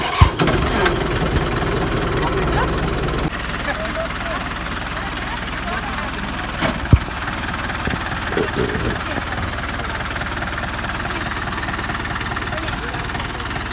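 A tractor engine cranks up with a sharp burst, then settles into a steady, rumbling idle that continues throughout, close and fairly loud, on farmland being prepared for corn.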